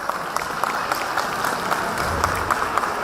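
Steady applause from a school annual day audience, a dense wash of many hands clapping at moderate volume throughout.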